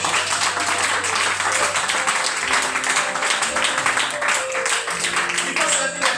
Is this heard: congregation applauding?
yes